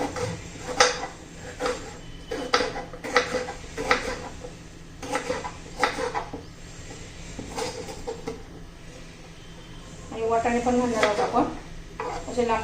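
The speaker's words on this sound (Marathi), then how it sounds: "आता टोमॅटो पण आपण असे उभे उभे चिरून घेऊया" A knife slicing tomatoes lengthwise on a board, a series of sharp, regular chops with clinks of utensils, close and moderately loud.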